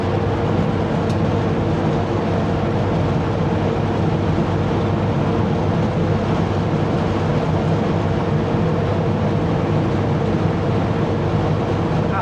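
Truck rolling downhill on an orchard drive with its engine fan running, a loud, constant roar and drone that holds steady throughout.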